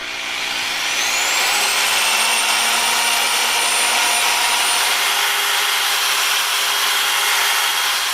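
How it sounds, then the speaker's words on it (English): A car body surface being sanded evenly before moving to the next grit: a steady, continuous abrasive rasp and whir, close and fairly loud, running unbroken for the whole stretch with no talking. "we're just gonna get this all sanded down even and move on to the next grit."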